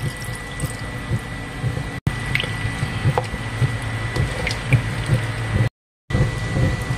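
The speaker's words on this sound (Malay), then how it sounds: "Masukkan sedikit air." Water poured into a pot of simmering yellow coconut-milk curry with turkey and fiddlehead fern shoots, a steady liquid pouring and bubbling close up, with small drips and clinks, no talking.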